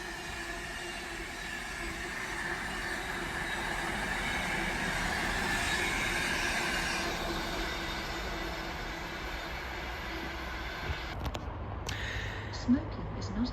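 A Class 88 locomotive hauls a train through Lichfield Trent Valley station on the West Coast Main Line, a loud sustained rumble and rail roar with wheel noise that fades toward the end before brief clicks.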